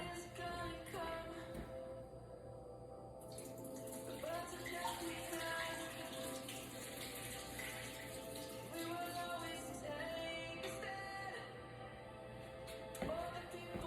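Soaked black-eyed peas are rinsed in a kitchen under running tap water, a steady faint rush and patter of water over the beans with soft clinks, continuing without pause.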